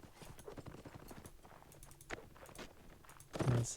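Horse hooves clip-clopping in a video game battle, a light, quick run of hoofbeats under faint background game noise, ending with a louder burst.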